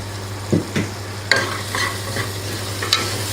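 An onion and tomato masala with kuzhambu chili powder, garam masala and turmeric fries in oil, a close sizzle punctuated by several scraping stirs and clinks of a spoon against the pan over a low hum.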